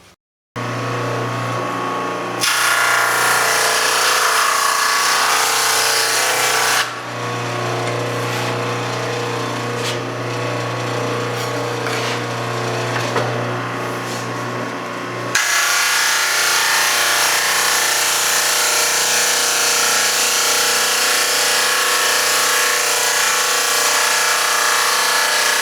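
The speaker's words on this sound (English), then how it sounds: "I'm going to plane this down to about 5/8 of an inch." A power planer thins a wooden mandolin top board, its loud continuous roar running in long passes with brief changes in tone and stops between them, close up and without speech.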